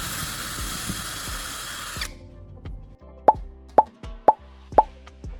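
A power drill whirs continuously, then stops and is followed by four sharp, evenly spaced knocks, close and fairly loud.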